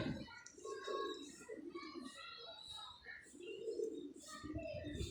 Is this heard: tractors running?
no